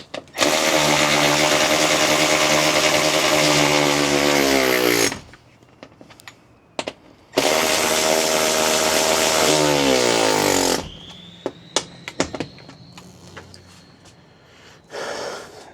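A neighbour's diesel engine revs loudly in two long roaring bursts, each winding down with a falling pitch. Short clicks and knocks fill the quieter gaps between them.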